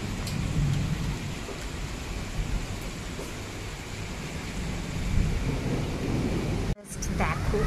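A daytime thunderstorm over Bangalore brings heavy rain. A dense, steady roar of rainfall runs throughout with low thunder rumbling beneath it and a brief break near the end.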